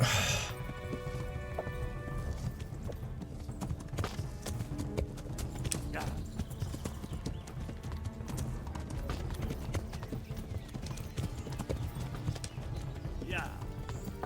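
Steady, rapid hoofbeats of a galloping horse in the video game Kingdom Come: Deliverance, close and continuous, with faint voices underneath.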